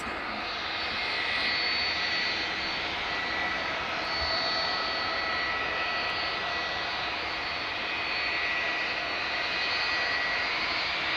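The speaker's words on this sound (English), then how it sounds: "We've an XLR landing from Minneapolis." An Airbus A321XLR jet arriving from Minneapolis and landing at Dublin Airport gives a steady, broad engine roar that swells slightly and holds at a moderate distance for several seconds.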